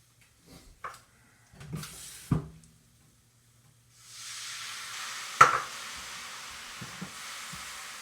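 Carrots dropped into a pan of frying kale: a few clattering knocks and handling sounds, then a sudden broad sizzle that swells and stays steady, with a sharp clink of a utensil partway in, close by and without talk.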